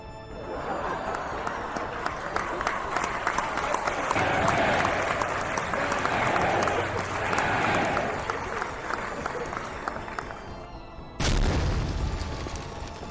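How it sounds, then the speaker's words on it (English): Applause from a crowd cheering guards, a sustained wash of clapping lasting about eleven seconds, swelling midway, then a sudden loud burst near the end. "gave a round of applause to the guards"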